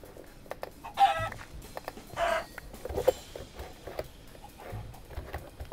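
Minecraft chickens cluck and squawk in short scattered bursts, fairly close, with brief synthetic-sounding game noises between calls.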